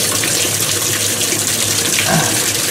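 A machine filling with water and draining, a loud continuous rush of flowing water that stays steady throughout, close with no talk.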